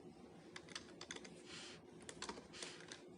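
Computer keyboard keys tapped in short irregular bursts while typing C# code for a bank program, close and fairly quiet, with no talking.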